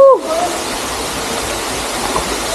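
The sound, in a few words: waterfall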